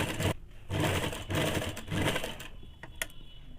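A sewing machine stitches a woollen ladies' scarf in bursts of rapid whirring, broken by short pauses and a final quiet clicking.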